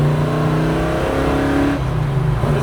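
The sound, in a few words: 1969 Chevrolet Chevelle SS accelerating in first gear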